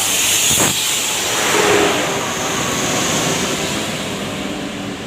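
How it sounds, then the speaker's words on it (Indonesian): The engine of a Haryanto bus, Efisiensi Jaya, revs and roars nearby with a steady hissing tone, the sound swelling briefly before settling into a continuous drone. "Bus Efisiensi Jaya, salah satu bus X Haryanto."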